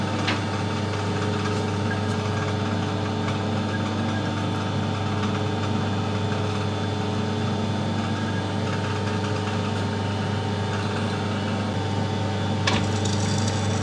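A metal lathe takes a light boring cut inside a motorcycle part, cleaning up a bore after drilling at a slowed feed; a steady, close machine drone and hum runs unbroken throughout with faint cutting hiss and no talking.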